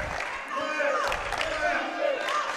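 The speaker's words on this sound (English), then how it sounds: "The crowd getting fired up." A basketball crowd in a gym cheers and shouts at a steady level, with scattered whoops and claps and an announcer's voice running over the noise.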